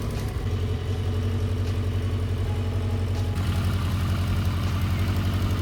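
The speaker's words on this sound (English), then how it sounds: "So now I will let it idle for a few minutes so it will get warm" A motorcycle engine idles steadily to warm up its oil during an oil and filter change, a continuous low, even rumble heard up close with no other sound over it.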